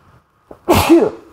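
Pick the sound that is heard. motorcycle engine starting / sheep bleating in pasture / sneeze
sneeze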